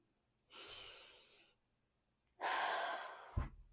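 A person taking a slow, deep breath: a soft, close inhale, a pause, then a longer and louder exhale ending in a small soft bump, with no talk.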